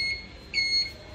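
A motorcycle turn indicator gives faint, thin electronic beeps, chirping a couple of times over a low hum, quiet and steady like a small buzzer.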